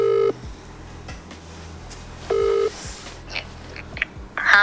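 A phone dialing a call to mom: two loud, steady tone bursts separated by a pause, with low repeating tones and faint background noise.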